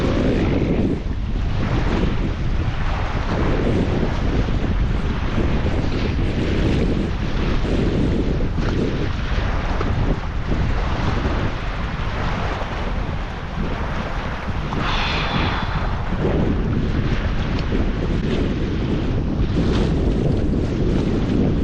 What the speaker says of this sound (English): It's all right wind, isn't it?